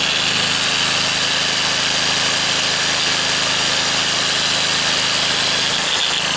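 A GENERGY GORBEA NEW 2.8 kW petrol generator with SVR stabilisation runs steadily under an electrical load of roughly 1500 W, a constant close engine drone with a broad hiss, shifting slightly near the end.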